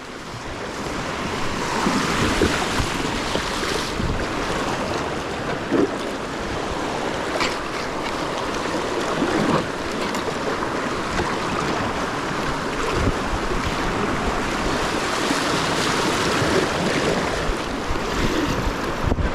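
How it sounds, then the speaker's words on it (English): A Crescent Smallie kayak is paddled upstream straight into fast river current, with rushing water and wind noise filling the scene continuously, broken by occasional splashy paddle strokes, loud and close. "Now I'm paddling directly into this."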